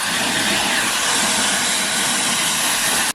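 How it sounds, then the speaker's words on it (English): A blow dryer with its nozzle removed drying hair gives a loud, steady, broadband rushing hiss close by that cuts off abruptly at the end, with no voices. "Get your blow dryer, take the nozzle off, and blow dry your hair almost"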